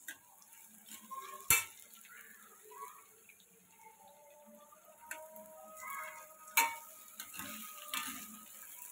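Dried prawns frying in a small kadai with a quiet background sizzle, broken by a few sharp metallic clicks and scrapes from stirring against the pan.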